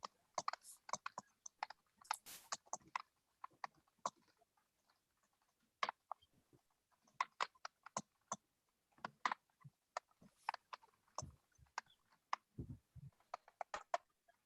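Typing on a computer keyboard, close and quiet: irregular bursts of light key clicks with brief pauses between runs, no speech.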